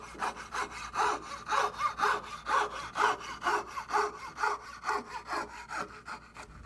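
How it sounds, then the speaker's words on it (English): Close, rhythmic strokes of a hand saw cutting through wood in a craft workshop, more than a dozen even rasping passes whose pitch shifts as the cut nears the end of the board, with no talk over it. "When I get right close to the end, the sound changes."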